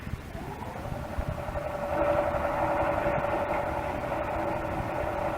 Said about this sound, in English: So we shall have to use our motors to pull ourselves free.